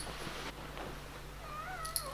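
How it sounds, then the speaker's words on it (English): An indoor cat meows softly a couple of times near the microphone, short rising calls over a quiet room hum. "The cat's just coming to see me."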